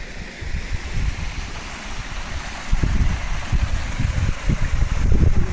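Water rushing into a canal lock as the gates are worked, a broad steady roar and churn that swells louder partway through, heard close with no voices over it.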